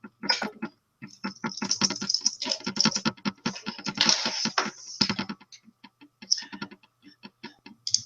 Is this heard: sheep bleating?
no